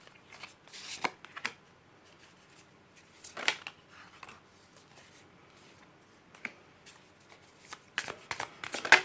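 Prisma Visions tarot cards being shuffled and drawn, soft riffling flicks and card snaps in scattered bursts, close and fairly quiet with pauses between.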